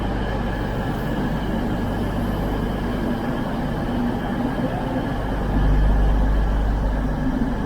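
A CrossCountry Class 43 HST diesel train rumbles steadily as it comes in, the low drone swelling louder toward the end as it draws close.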